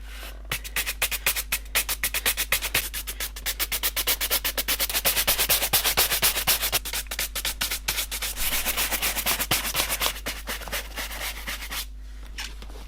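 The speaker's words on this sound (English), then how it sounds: "just going to go over with a horsehair brush" Horsehair brush swept briskly over very dry, worn Prada leather boots, a steady close run of rapid rasping strokes that fades out near the end, with a low hum beneath and no talking.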